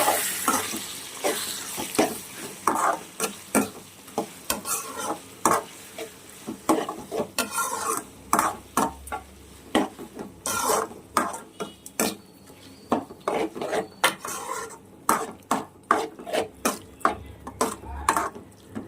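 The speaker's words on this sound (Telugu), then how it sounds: "వేసినాక ఇప్పుడు మనం కలుపుకోవాలి" Food is stirred and mixed in a cooking pan, with repeated clattering and scraping of a utensil against the metal in uneven bursts over a soft sizzle.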